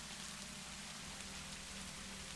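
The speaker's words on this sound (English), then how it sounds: "Sounds like the rain's stopping" Steady rain falls in a continuous, even hiss, moderately loud and close, with no voices or other sounds over it.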